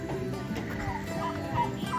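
Turkeys gobble on a homestead in a few short, warbling bursts over a low, steady background, moderately close but not loud.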